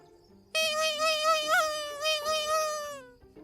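A fox call whistle imitating a wounded rabbit gives a single loud, wavering, high-pitched squeal lasting a few seconds, heard close and alone.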